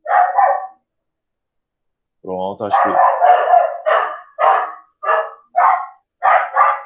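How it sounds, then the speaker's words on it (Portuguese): Several dogs bark in an excited frenzy indoors, with a string of loud, close barks arriving in quick bursts after a brief spoken phrase. "Nossa, pessoal, só um minuto que eu estou com os cachorros numa loucura extrema aqui."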